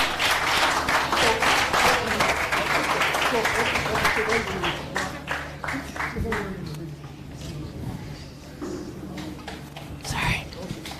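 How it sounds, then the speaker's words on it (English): At a smart meter hackathon award announcement in Lagos, the crowd claps for the winning team: dense applause at first that gradually thins into scattered claps, with voices murmuring beneath it. "A round of applause."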